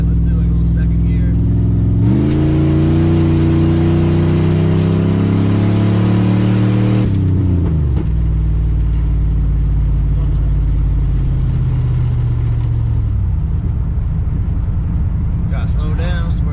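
A car fitted with a Holley Sniper EFI and an in-tank fuel pump pulls hard in second gear, engine note rising loud and close for several seconds before easing off and settling to a low rumble.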